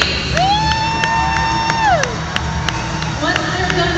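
Crowd cheering and clapping at a hockey event during a race on the ice, spirited whoops and shouts under a sustained organ-like tone, with scattered sharp claps.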